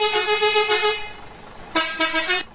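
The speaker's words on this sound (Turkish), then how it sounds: "Bu nasıl bir korna?" A truck horn in Euro Truck Simulator 2 blares two loud, sustained tonal honks, the first about a second long and the second shorter after a brief pause.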